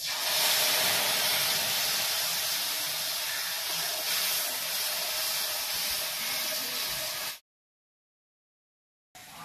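A ground spice paste hits hot oil already holding whole garam masala, left after frying pointed gourd for a doi potol curry. It gives a loud, steady, close sizzle for about seven seconds, then stops abruptly and briefly starts again.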